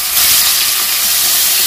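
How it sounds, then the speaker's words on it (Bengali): Prawns marinated in salt and turmeric fry in hot oil, giving a loud, continuous close-up hiss and sizzle that holds steady throughout. "এবারে আমি চিংড়ি মাছগুলো ভেজে নেব"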